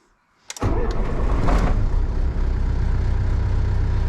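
A Mercedes 609D campervan's diesel engine starts after a brief starter crank, catching at once into a loud, rough, steady idle rumble heard close up.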